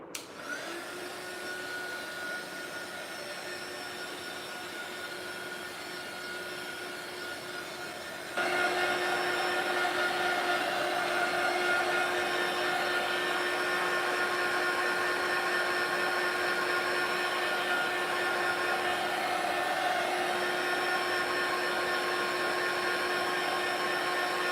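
Handheld heat or drying tool blowing steadily over an art journal page, a continuous whirring hum with a high whine that grows louder and fuller partway through, running without a break.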